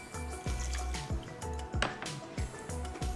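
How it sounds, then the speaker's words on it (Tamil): About a quarter cup of water poured into a cooking pot of Nagercoil-style erissery, a soft liquid splash with a few drips and squishy stirring-like sounds, close and moderately loud, repeating in short bursts. "இதில் ஒரு 1/4 கப் தண்ணி ஊற்றுறேன்"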